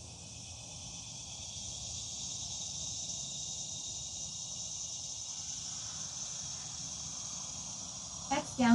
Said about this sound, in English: cicadas are loud